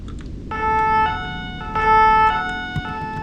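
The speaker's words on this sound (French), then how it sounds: "Oh tiens, des pompiers." A fire engine siren in a video game wails in steady, sustained tones that switch pitch several times, loud and close over a low rumble of traffic.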